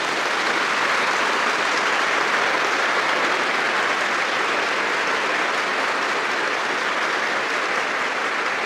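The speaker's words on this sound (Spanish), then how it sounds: "Un aplauso para el Papa" A big audience applauding Pope Francis, thick continuous clapping that holds at an even, loud level throughout with no voices standing out.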